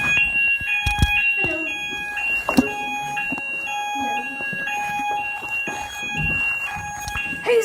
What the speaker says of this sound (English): Who set off the fire alarm?